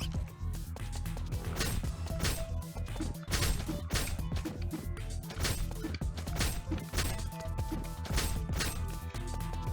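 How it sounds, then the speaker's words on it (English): Background objects being smashed in the action game Blade Assault: a busy run of sharp crashes and whacks, repeating irregularly over steady game music and effects at moderate level. "it's worth smashing background objects to try to get extra currency to spend"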